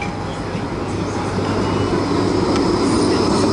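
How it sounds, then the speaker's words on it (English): A Blackpool tram rolls past along the seafront, a steady loud rumble of wheels on rails with a faint squeal, continuous and close throughout. "And here comes a tram."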